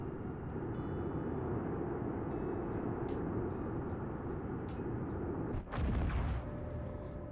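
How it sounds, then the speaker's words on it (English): Artillery cannon firing in a video game: a string of sharp, distant cracks over a steady low rumble, then one heavy, louder blast near the end. "So the artillery cannon was tracking me."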